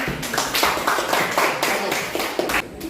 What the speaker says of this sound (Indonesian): tepuk tangan untuk Ebelika dulu